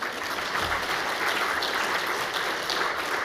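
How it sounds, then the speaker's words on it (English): A conference audience at the Co-op Congress breaks into a full round of applause, dense and loud clapping from a large hall that holds steady throughout. "I think you should all give yourself a round of applause"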